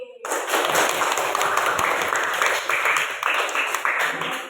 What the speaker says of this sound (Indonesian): coba kalian tepuk tangan buat Adi karena sudah menjawab dari teks prosedur tadi